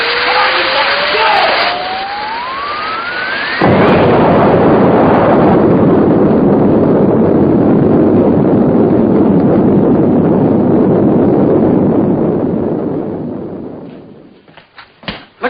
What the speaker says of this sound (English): Looks like there's been some kind of an explosion over in Pelham Woods